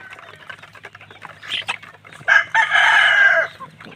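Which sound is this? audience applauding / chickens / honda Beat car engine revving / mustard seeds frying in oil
chickens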